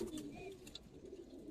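Pigeons coo softly in a loft holding old-breed Giribaz birds, with males, young and females kept together; low murmuring coos repeat steadily at close range with brief higher chirps.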